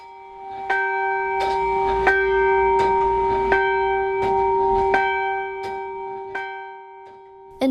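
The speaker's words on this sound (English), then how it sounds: "the Anglican church bell rang out 50 times for the fallen" Anglican church bell in Whangarei tolling for the fallen, six clear, evenly spaced strikes about 1.4 seconds apart, each ringing on with a long resonant hum, loud and close with no voices.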